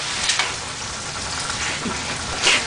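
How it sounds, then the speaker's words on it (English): Shrimp frying in butter in a pan, giving a steady, close sizzle with a few louder crackling bursts, alone without talking. "You can tell the shrimp are cooking when they're starting to get lightly brown from the butter."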